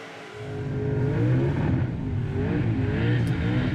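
A 372 cubic inch small block Ford V8 in an XE Falcon revving hard during a burnout competition, a loud, sustained engine roar with wavering pitch that holds steady throughout.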